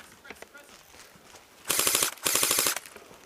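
Airsoft gunfire during a game: two rapid full-auto bursts, each under a second, fired close and loud after a stretch of quieter background with faint voices.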